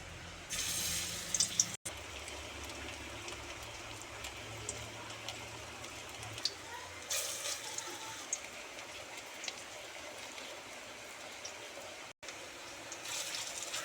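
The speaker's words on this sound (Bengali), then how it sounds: "অয়েলটা আমার গরম হয়ে গেছে, এবার দিয়ে দেব বড়া।" Khesari lentil fritters (boras) sizzling in hot oil, a steady, fairly loud hiss and crackle that runs through the whole stretch, with brief bursts of sharper spattering as the fritters go in.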